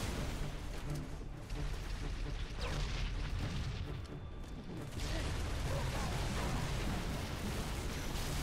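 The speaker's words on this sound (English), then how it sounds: "I got the rocket launcher." Rocket launcher blasts and heavy booms in Halo 3 fill a dense, continuous wash of combat noise, with explosions rumbling and overlapping across the whole stretch.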